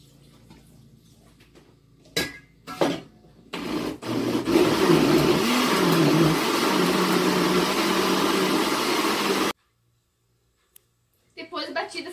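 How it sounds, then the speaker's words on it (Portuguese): A kitchen blender whirs steadily as it pulverizes grape skins with water. Clattering and handling noises come first, then a loud continuous grind runs for about six seconds and cuts off abruptly. "Vou colocá-las no liquidificador."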